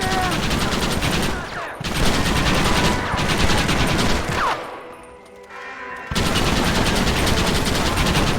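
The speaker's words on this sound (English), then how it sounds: "Why are they all shooting at me?" Sustained gunfire in a Red Dead Redemption shootout, dense overlapping shots rattling almost continuously, thinning briefly in the middle before resuming at full loudness.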